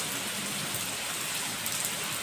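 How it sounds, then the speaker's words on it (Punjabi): Heavy rain pours down outside a home kitchen, a dense, steady hiss of drops with no pauses, loud and close throughout without any voices. "ਬਾਹਰ ਤਾਂ ਪੁੱਛੋ ਹੀ ਨਾ ਇੰਨੀ ਤੇਜ਼ ਬਾਰਿਸ਼ ਹੋ ਗਈ ਹੈ ਨਾ ਦੇਖੋ"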